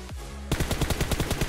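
Rapid automatic gunfire from the mobile game PUBG Mobile bursts in after a brief lead-in, a fast, loud string of shots filling the rest of the moment.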